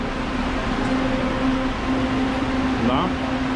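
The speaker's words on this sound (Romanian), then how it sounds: "Aer condiționat." Air conditioning running inside an elevated metro train, a constant broadband whoosh with a steady low hum beneath it and train rumble blending in.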